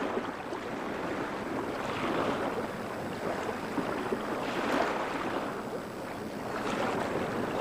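Lake waves driven by a westerly breeze wash against the sandy shore of a Great Lakes peninsula, coming in soft, repeated surges with wind rushing across the microphone throughout.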